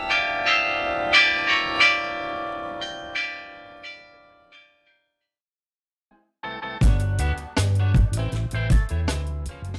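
Church bells ring out from a bell tower in Porto, Portugal, first a clear resonant series of strikes that decays into near silence, then a louder, denser round of clanging peals resumes.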